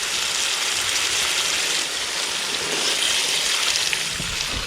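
Water pours steadily into a bucket of potato plants to flood the soil until it stands, a continuous close hiss and splash with no talking.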